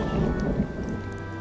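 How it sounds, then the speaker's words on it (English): Low rumbling thunder from an approaching storm front, steady and continuous with a faint rain-like hiss over it, heard alone without voices. "There's a storm front coming in."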